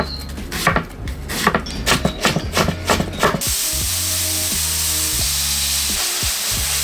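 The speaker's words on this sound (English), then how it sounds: "as you can hear behind me, I am cooking up some onions, some garlic" Onions, garlic and broccoli frying in a pan, with clattering stir and pan knocks at first, then a steady close sizzle carrying on alone.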